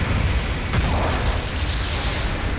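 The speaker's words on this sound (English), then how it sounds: "Your mobile suit has been destroyed." A mobile suit blows up in Gundam Battle Operation 2, a deep, rumbling explosion that booms loud and close and rolls on as a sustained low roar for a couple of seconds.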